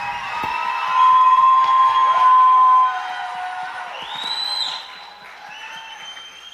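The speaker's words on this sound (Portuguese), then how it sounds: "palmas para eles, amém?" Audience applause and cheering at a relationship talk show, loud and sustained with whoops, peaking early and then tapering to a softer, scattered clapping.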